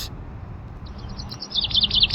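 Birds chirp in quick, high repeated tweets that grow busier toward the end, over a low outdoor hum.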